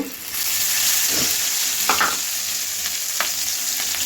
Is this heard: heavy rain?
no